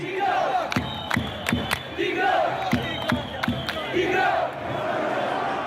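Algerian protesters chant in a massive crowd at a mass demonstration against Bouteflika, rhythmic rising-and-falling voices with sharp repeated beats or claps cutting through a dense, continuous roar.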